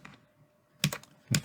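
Keystrokes on a Samsung Smart Keyboard Trio 500, three or four close, crisp clicks in two quick bursts separated by a short pause, in a quiet room with no talk.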